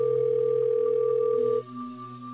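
A telephone dial tone hums steadily and loud for about a second and a half, then cuts to a different lower tone as the call begins.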